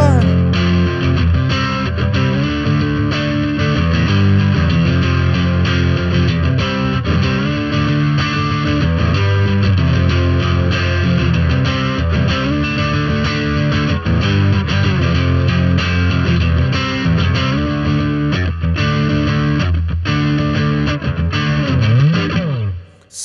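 Heavily distorted electric guitar plays sustained power chords, loud and continuous, with rhythmic strums and a sudden cutoff at the end.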